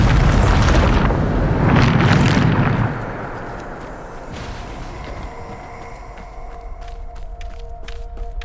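A Bombarda spell explosion in Hogwarts Legacy: a loud, deep, broadband blast that dominates the first few seconds, then fades into a lower rumbling tail with faint tonal game ambience.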